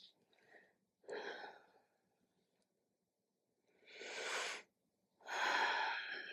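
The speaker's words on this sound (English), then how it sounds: "Come down for those 2 deep breaths." Deep breathing during a hip exercise workout, a few audible inhale and exhale cycles with airy, slightly wheezy texture, close and quiet, the last two breaths longer and stronger.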